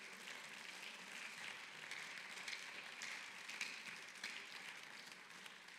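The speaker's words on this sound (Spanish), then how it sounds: "Denle un aplauso al Señor Jesucristo." A church congregation applauds together, a dense, continuous patter of many hands clapping that sounds somewhat distant and fairly faint, holding steady for several seconds.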